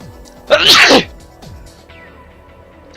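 A single loud, sharp sneeze bursts out up close, followed by quiet rustling.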